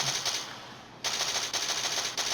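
Rapid automatic gunfire from the mobile zombie shooter game Unkilled comes in loud, continuous bursts broken by a short pause and brief gaps between volleys.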